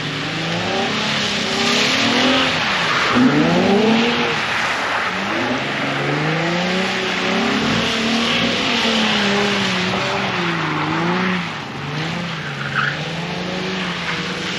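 A Nissan 370Z Nismo with a yaw-control disable mod slides around a wet skid pan, its engine revving up and down in wavering sweeps with tire hiss, loud and continuous throughout.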